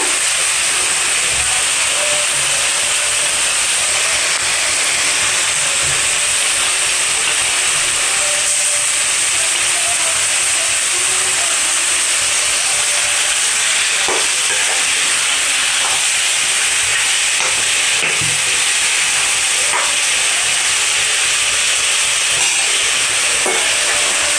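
Chicken pieces dropped into a hot pot for a mutton and chicken curry set up a steady, close sizzling hiss that holds for the whole stretch, with a few faint stirring knocks underneath.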